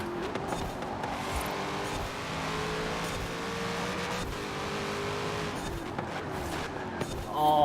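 Chevrolet Corvette Z06 engine racing in Forza Horizon 4, a steady sustained drone with shifting revs and a brief rise at the end, with faint talk underneath.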